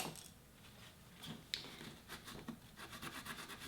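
Paint is rubbed off a Han Solo blaster prop to weather it, making soft, close, repeated scratchy rubbing strokes that come in an irregular rhythm and grow busier toward the end.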